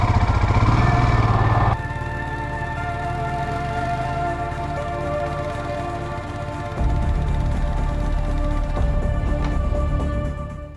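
Motorcycle engine running steadily while the bike rides on ice in second gear, a sustained mid-pitched drone with a harsher opening burst that eases, then swells again near the end.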